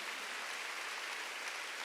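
A church congregation claps together at a Wednesday worship service, giving a steady, dense wash of many hands. The clapping is even and continuous, heard from some distance, with no voice over it.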